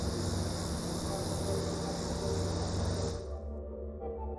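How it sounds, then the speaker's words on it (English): Dense, steady chirping of insects fills the air, loud and continuous, then the high trilling cuts off abruptly near the end leaving a low hum. "crickets or cicadas, another noise-making insect, were the source of the strange sound"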